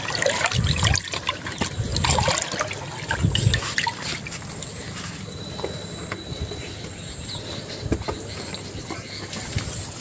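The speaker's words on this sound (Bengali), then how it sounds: "সোনামণিদের জল দিয়ে দিচ্ছি" Water trickles and splashes as it is poured for village animals to drink, a steady liquid dribble close by with some low thumps and handling noise, no talking.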